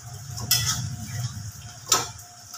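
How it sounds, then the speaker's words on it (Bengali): Someone lifts the lid off a pot of mutton keema curry cooking with stock, giving two sharp metallic clanks about a second and a half apart over low background noise. "আবারও আমি ঢাকাটা খুলেছি"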